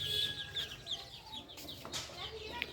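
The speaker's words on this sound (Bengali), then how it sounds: "এই শখের খামারে ছাদের উপরে শখের খামার, শখের মুরগি।" Hens on a rooftop hobby farm cluck in a steady, scattered chatter close by, with a few sharper calls rising out of a continuous farmyard din.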